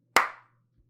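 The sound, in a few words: one person clapping hands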